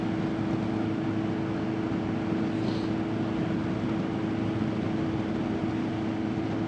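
A Honda CBR650F motorcycle's steady, low exhaust drone runs continuously at a constant level, as if cruising along without much throttle at night.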